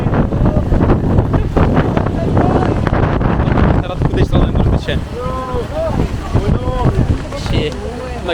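Strong wind gusts buffet the microphone on a Mumbai beach during the rainy season, with a rough, continuous rush that carries loud, close talking throughout.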